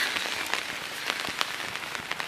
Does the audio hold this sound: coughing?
no